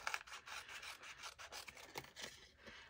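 Papercraft scraps being trimmed for 3x3 Christmas note cards, a close run of short rasping, rubbing strokes in quick uneven rhythm, quiet and without speech.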